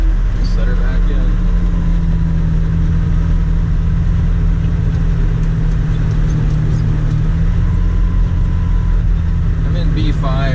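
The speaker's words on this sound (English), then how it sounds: "it's working the tractor" A John Deere 8970 tractor working ground under heavy load on a steep hill gives off a loud, steady low engine drone and rumble throughout, with someone talking over it.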